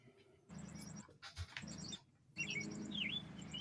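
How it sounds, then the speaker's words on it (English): Birds chirp and tweet in short bursts of bright, high calls over a low hum, with a pause in the middle and a busier stretch after it, with no talking. "We're picking up heavy birds."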